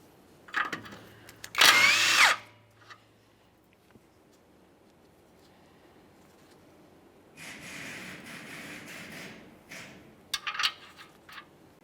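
Power tool spinning off the 21mm outer tie rod end nut on a 2015-2020 Ford F-150, a short loud whirring burst near the start followed by quieter ratcheting and tool buzz later, with no talking.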